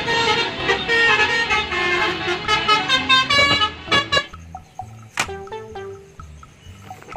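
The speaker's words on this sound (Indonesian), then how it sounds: "Bus telolet lagi teman-teman." A toy bus's telolet horn plays a rapid jingly multi-tone tune, loud and close, then stops, leaving a few short electronic beeps and tones.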